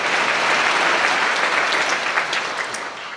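A church congregation claps during a sermon, a dense, steady wall of applause that holds at full strength for a few seconds and then eases slightly toward the end.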